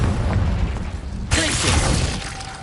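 Confringo explosive spell from a Harry Potter video game, a sudden loud blast bursting out midway through a steady rumbling background and trailing into a crackling tail.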